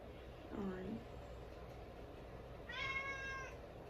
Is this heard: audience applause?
no